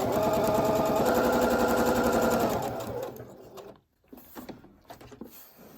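A Singer or Pfaff Passport sewing machine stitches at high speed, a loud steady whirring hum for nearly three seconds, then slows and stops, leaving a few faint mechanical clicks.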